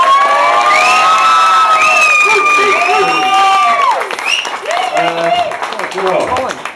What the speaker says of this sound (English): A big round of applause for Mr. and Mrs.